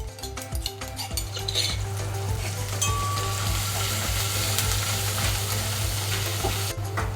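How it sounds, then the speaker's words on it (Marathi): Thecha chili paste roasting in hot oil in a pan for Maharashtrian mas vadi, a steady loud sizzle and fry with stirring scrapes and occasional utensil clinks throughout. "आता ठेचा टाकून चांगला भाजून घेऊ"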